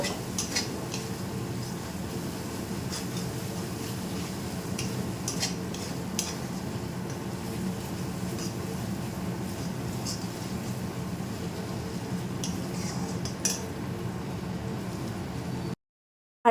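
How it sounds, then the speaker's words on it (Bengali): Spice masala with red chilli powder being sautéed in a pan for echor dopiaza, a steady low sizzle with faint scattered clicks of stirring, continuous and even throughout with no talk. "এবারে সমস্ত মশলাগুলিকে কিন্তু আমি কিছুটা সময় ধরে খুব ভালো করে কষিয়ে নেব"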